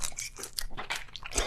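Someone chewing boiled octopus close up, a quick series of wet crunchy bites and mastication sounds with no talking.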